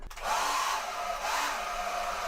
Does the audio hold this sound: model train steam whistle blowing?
no